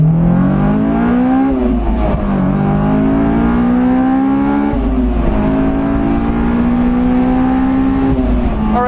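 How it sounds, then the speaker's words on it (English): A car engine under hard acceleration and braking roars loud and close, its pitch climbing through the revs, dropping, then climbing again in repeated surges, with no talking. "I'm going to do some hard acceleration and then, brake a bit, get back on the acceleration"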